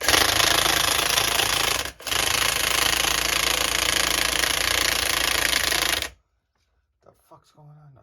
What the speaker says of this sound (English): It's definitely idling lower, which is good because it had a really tiny idle gap